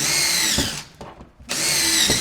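A power drill bores a hole into a wall for mounting heavy-duty garage storage hooks, two loud whirring bursts separated by a brief pause, with no talking.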